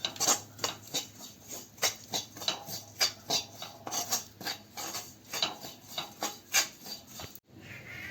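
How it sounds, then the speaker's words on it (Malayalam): A spoon scraping and stirring roasted fenugreek powder and turmeric powder in a pan over a low flame, in a steady rhythm of roughly twenty soft, close strokes with no voices. "പച്ചമണം മാറുന്നിടം വരെ നമുക്കൊന്ന് ഇളക്കാം ചെറിയ തീയിൽ"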